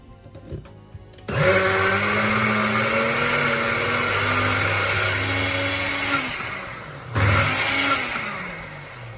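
A blender whizzes a herb crust mixture for rack of lamb in two loud bursts, a whirring motor that rises and dips in pitch, alone without talk.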